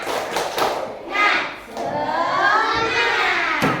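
Schoolchildren in a classroom clapping together in a rhythmic group cheer, several quick bursts of claps mingled with young voices and chatter.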